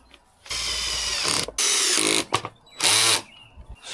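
A power driver fastening screws into shed storage, with three close whirring bursts of about a second each separated by short pauses, loud and alone with no talking.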